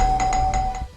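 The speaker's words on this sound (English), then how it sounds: "The neighbor kept ringing the doorbell." Doorbell at a neighbor's apartment rung repeatedly, four evenly spaced bright electronic chime pulses over a steady tone, close and clear with no talking.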